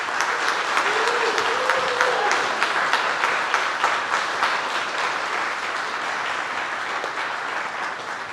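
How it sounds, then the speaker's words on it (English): At a New York cycling tech talk night, an audience gives loud, sustained applause to lightning talk presenters as they stand, dense clapping that tapers slightly, with a brief voice audible early on. "can we give a big round of applause as they stand up?"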